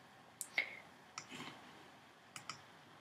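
A few sharp, quiet computer mouse clicks, spaced apart in pairs, during editing in Motion 5, with no talking.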